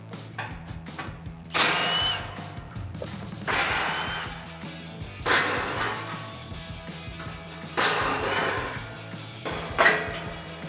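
An impact wrench fitted with a 13mm socket comes off a Toyota Tacoma's skid plate bolts, giving several loud, rattling bursts of a couple of seconds each, with a steady low hum filling the gaps between them.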